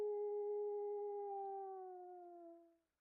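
A wolf howls in the survival game Vintage Story: one long, steady, tonal cry with clear harmonics that slowly falls in pitch and fades out over about three seconds, standing alone with nothing else audible.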